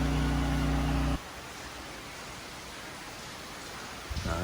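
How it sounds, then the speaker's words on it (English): Steady broadband rush of 20 to 25 mph tropical storm wind in Puerto Rico with a soft hiss of light rain, a heavier low gust at the start and again at the end, no voices. "the winds look to be about 20 miles an hour, 25 miles an hour. Light sheets of rain."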